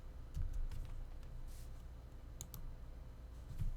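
A few soft, scattered clicks of keys on a computer keyboard as a single letter is typed, faint against a quiet room hum.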